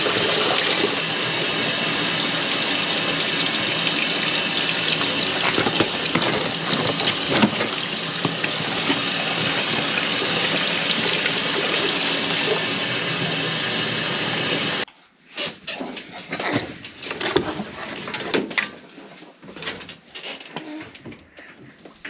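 A washing machine fills with cold water on a delicate cycle while washing car seat fabric, a steady rushing flow that runs loud for a while, then drops away to quieter splashes and intermittent trickles.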